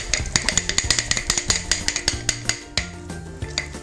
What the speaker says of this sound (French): on mélange de nouveau avec la maryse